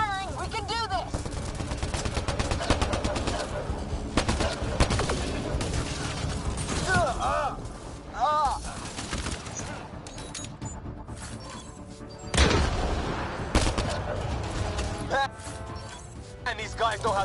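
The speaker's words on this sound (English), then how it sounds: "Just keep firing, we can do this!" Sustained gunfire in the sci-fi shooter Mass Effect: Andromeda, dense bursts and mechanical clatter running throughout amid battle noise, with voices shouting over the combat.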